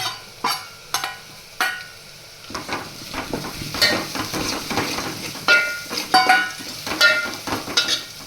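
Ginger paste and green chillies go into hot oil for the tempering of Gujarati dal dhokli. Sharp utensil clinks at the start lead into a rising sizzle with spoon scrapes and bursts of spitting oil. No one speaks.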